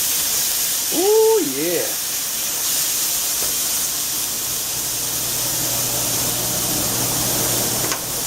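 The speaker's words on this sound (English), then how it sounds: "But I want these to kind of sear real quick before I add the roast meat in." Green peppers and garlic sear in a hot pan with a steady, broad sizzling hiss that runs the whole time, while a voice briefly exclaims near the start.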